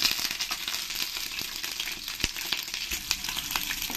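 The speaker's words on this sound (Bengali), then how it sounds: "এবার আমি এই ডিমগুলো ফ্রাই করে নেব।" Eggs fry in peanut oil in a wok with a bright, continuous sizzle full of irregular pops and spits, close and steady, with no voices.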